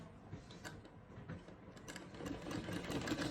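A sewing machine stitches a side seam on a lady's kameez, a soft, steady mechanical whirring and clicking that swells a little louder toward the end, with no voices.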